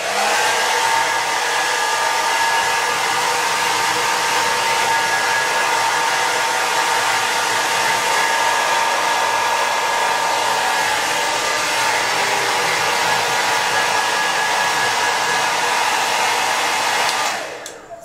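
Hair dryer blow drying hair, a loud, steady, close whooshing roar that holds for the whole stretch without a break and then cuts off at the very end.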